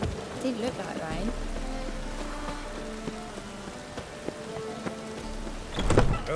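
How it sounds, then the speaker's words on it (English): In The Witcher 3: Wild Hunt, rain falls in a steady patter beneath soft game music, with speech and a brief heavier rumble near the end. "Rain again."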